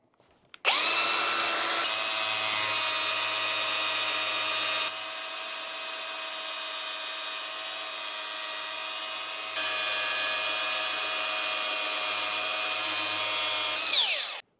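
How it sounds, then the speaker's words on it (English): A bench grinder sharpens a lawnmower blade, giving a loud, steady, high grinding whine that runs for about thirteen seconds, with its pitch and loudness shifting slightly as the blade is pressed on and eased off the wheel. "we're going to get onto the grinder and make some sparks"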